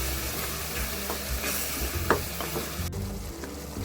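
Yogurt-marinated masala for paneer masala sizzles and fries in oil in a pan while being stirred, a steady close hiss with occasional scraping strokes of the spoon, no talking.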